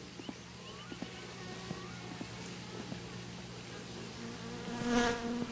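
Insect buzzing from mosquitoes in My Summer Car, a steady whining drone with small ticking sounds, growing louder and closer near the end.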